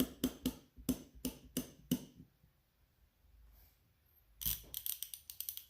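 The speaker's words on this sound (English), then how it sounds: "This is a 90 tooth half-inch ratchet, whereas this is a 4-tooth half-inch ratchet." A 90-tooth and a 4-tooth half-inch ratchet click in two bursts, a quick rapid run of sharp metallic ticks, a pause with faint handling, then a second dense run of clicks close to the mic.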